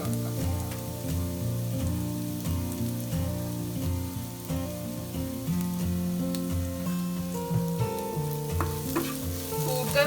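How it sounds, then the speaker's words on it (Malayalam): Shallots, garlic and curry leaves sautéing in oil for a Kerala koorka stir fry, crackling steadily with brisk stirring, under background music throughout and with no talk. "ചെറിയ ഉള്ളിയും വെളുത്തുള്ളിയും നന്നായി മൂപ്പിച്ചെടുക്കാം."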